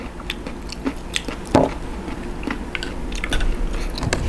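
Blanched jumbo blood cockles being eaten up close, with scattered crisp bites, wet chewing clicks and a louder crunch midway, no talk.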